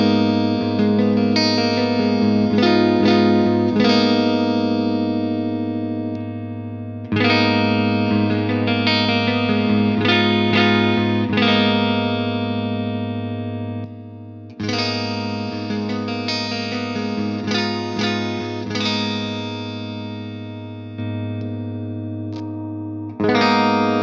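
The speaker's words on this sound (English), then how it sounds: "simple chord with all the pickup settings as well as all the voicings through a clean tone in Helix Native with some reverb" An electric guitar with Fishman Fluence active pickups plays the same simple chord repeatedly through a clean tone with reverb, each strum ringing out and decaying before the next round of strums.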